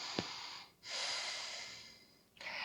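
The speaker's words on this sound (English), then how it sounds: "relax here, inhale and exhale" Slow, audible breaths close to the microphone during a relaxing yoga stretch: a long exhale, a pause, then a long inhale and the start of another breath, soft and unhurried.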